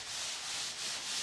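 A power file with 80-grit paper sands filler on a 1957 Volkswagen oval-window Beetle body panel, a steady, close hiss of abrasive rubbing that swells and eases slightly.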